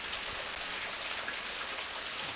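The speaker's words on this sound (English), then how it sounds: "The rain did start after midnight." Steady, soft rain falls at night as a tropical storm arrives in Louisiana, a continuous even hiss of drops on surfaces with no distinct breaks and no voices.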